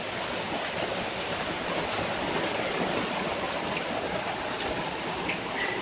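Heavy rain pours down during a thunderstorm, a dense and continuous roar of drops on surfaces, steady and loud throughout with no voices.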